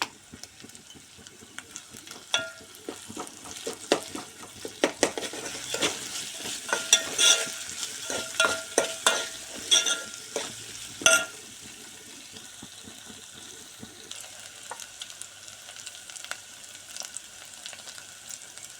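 Ginger fries in a pan for khichdi, a continuous sizzle broken by frequent clattering stirs and scrapes that swell in the middle and then ease to a softer hiss.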